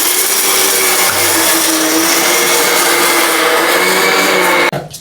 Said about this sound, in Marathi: चालू करू का मिक्सर एकदा